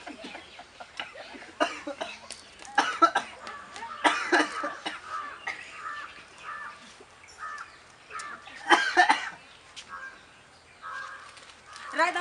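An old man coughs in harsh, rough bursts, several in a row with short pauses between them, close by and mixed with other voices talking around him.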